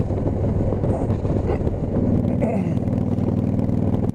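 Wind buffets an outdoor microphone on a motorcycle outing, a continuous low roaring rumble that swells in gusts and stays loud and close throughout, with no talking.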